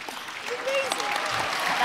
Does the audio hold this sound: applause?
yes